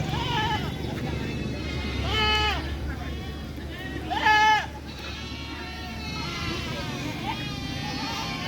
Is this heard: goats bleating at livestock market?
yes